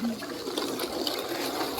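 Running water rinses fish, a steady broadband wash of splashing and pouring that holds close and fairly loud throughout.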